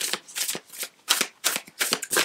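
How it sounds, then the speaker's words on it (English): Several quick riffles of a deck of tarot cards being shuffled, bursts of crisp papery flutter separated by brief pauses, close and fairly quiet. "Okay, one more shuffle."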